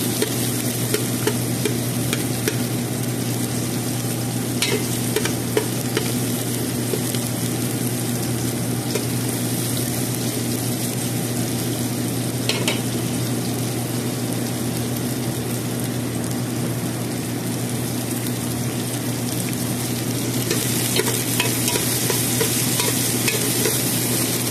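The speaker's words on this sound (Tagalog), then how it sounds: "Tapos ilagay ko na ng garlic at saka onion. Isahin natin ng maigi." Garlic and onion sizzle and fry in a pan while being stirred for a Filipino chicken curry, a steady loud crackle with scraping stirs throughout and no talking.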